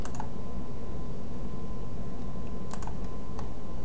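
Brief bursts of computer keyboard typing, a short cluster of keystrokes at the start and another near the end, over a steady background hum.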